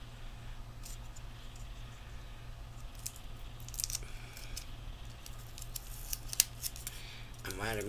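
Scissors snip through card-making paper in a series of quick, close cuts over a faint background hum.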